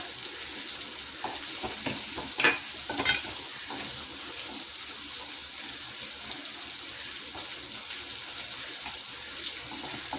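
Ginger and curry leaves sautéing in a pan, a quiet hiss of frying with a few scraping stirs and two brief louder clatters, no one talking.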